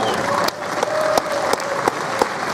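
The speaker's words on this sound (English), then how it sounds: "You're allowed to clap, folks." Audience applause fills a panel room at the Wizard World Philadelphia 2015 comic convention, with dense steady clapping that swells in a few sharper bursts over about two and a half seconds.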